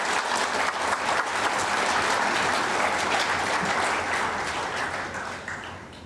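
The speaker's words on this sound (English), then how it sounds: "Kindly give a big applause to our chief guest." Audience applause for the chief guest at a foundation day ceremony: a full hall claps loudly and steadily for several seconds, a dense, even wash of hands that tapers slightly at the close.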